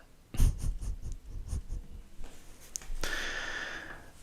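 Pen drawing a rice cooker on paper, heard as close, soft scratchy strokes in short bursts, then a longer steady scribbling stretch near the end, with no talking.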